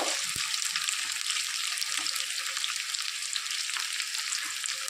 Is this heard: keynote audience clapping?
no